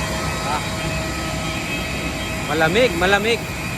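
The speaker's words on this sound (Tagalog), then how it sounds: "Laki ng eroplano. Yan, Vietjet Airlines." A large Vietjet Airlines jet at Hanoi airport gives off a steady engine whine and hum in cool weather, moderately loud, while a person talks briefly over it near the end.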